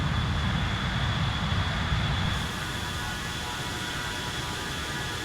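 A-10 Thunderbolt II jet engine in the MSFS 2024 flight simulator: a continuous, steady broadband engine roar with a constant whine, which drops slightly in level partway through, with no talk.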